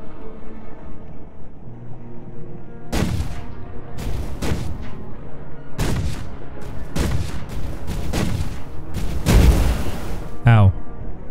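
Gunfire and booming cannon shots from the Sea Of Craft crafting game with water physics, a series of loud broadband bursts in irregular clusters, with a voice speaking at points.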